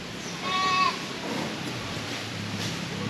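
Goats being pastured during rainy weather give one short, clear bleat close by over a steady hiss of falling rain that continues after the call fades.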